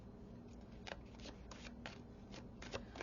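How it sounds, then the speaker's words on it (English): Oracle cards being shuffled by hand, a soft, close series of riffling flicks and slides in quick uneven bursts, quiet and alone. "They do this kind of shuffling really easy."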